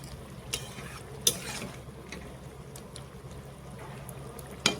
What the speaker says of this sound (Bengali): এই গরম মশলা ঘিয়ে লাড়াচড়া করব